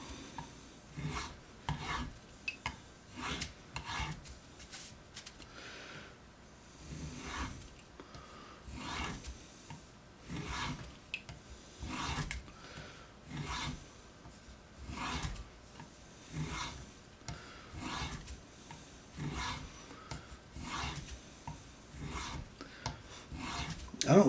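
A knife edge being convex-sharpened by hand, giving repeated rasping, rubbing strokes in an irregular rhythm, close and fairly quiet, with no one speaking.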